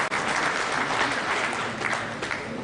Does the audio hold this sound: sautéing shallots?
no